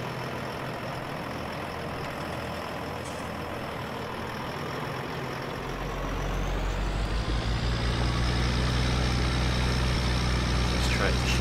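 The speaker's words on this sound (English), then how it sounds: "This tractor shouldn't struggle doing this job." A tractor prepares a seedbed on a barley field with a steady engine drone that swells louder and deeper about halfway through as it takes load, with no voices.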